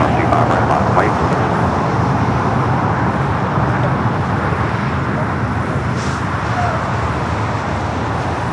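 Airliner taking off from runway 25 right at Los Angeles International Airport, a broad steady jet roar heard from a distance, with tower radio chatter and voices talking over it.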